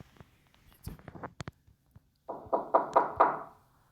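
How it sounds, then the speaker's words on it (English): Creepy knocking on a door in a recorded scene, an irregular flurry of light taps followed by a run of five louder, hollow knocks, close and alone with no talk. "The moment he hears the creepy knocking noises coming at the door"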